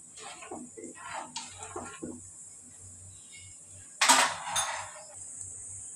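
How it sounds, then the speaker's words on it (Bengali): A pot lid set down on a cooking pot in a home kitchen, a sharp clattering clink of metal near the end, after quieter shuffling and faint utensil sounds. "এখন আমি ঢাকনাটা দিয়ে দিলাম।"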